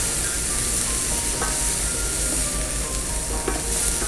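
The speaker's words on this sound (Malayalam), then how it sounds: "ഇതൊന്ന് ലൈറ്റായിട്ടൊന്ന് സോട്ടേ ആവണം" Garlic sautés lightly in a hot pan with a steady, close, continuous sizzle and hiss, with faint occasional stirring scrapes and no talking.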